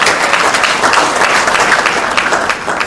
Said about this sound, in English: A round of applause for ourselves.